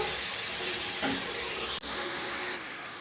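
Grated coconut with cardamom fries in a pan over medium flame, giving a steady close sizzle and hiss with a brief stirring scrape partway through, no talking.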